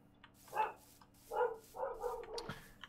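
Minecraft-style barking from a video game: three or four short dog barks and yips in quick succession, fairly close and moderately loud, with no talk over them.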